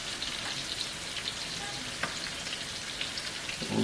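Pan-seared salmon fries in a pan with lemon juice squeezed over it, a soft, steady sizzle and crackle with a few small pops, heard close and alone.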